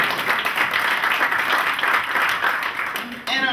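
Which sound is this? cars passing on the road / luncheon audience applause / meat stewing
luncheon audience applause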